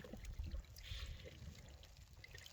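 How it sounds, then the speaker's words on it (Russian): A thin overflow stream of cold water, about finger-thick, trickles from a livestock drinking trough onto the ground in snowy January weather, giving a faint, steady dribbling babble with low outdoor rumble. "Водичка течет примерно мизинец толщиной, струйка."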